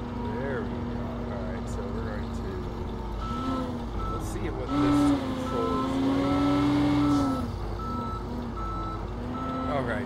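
A snow plow truck with a wing plow in a driving video game: engine drone with a repeating electronic reversing beep, a louder surge midway, and someone talking over it.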